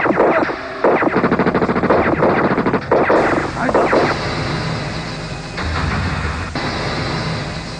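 A shootout in a 1990s Indian TV serial brings loud rapid gunfire, bursts of repeated shots in the first half that give way to rumbling battle noise and scattered blasts, with shouted voices mixed in.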